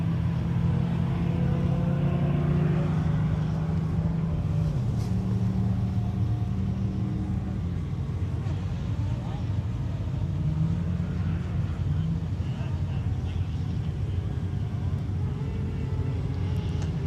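Steady engine rumble from a car on a motorkhana stage riding the bank, with droning tones that rise and shift as it works around the course, sustained and fairly close throughout.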